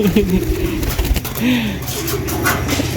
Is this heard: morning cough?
no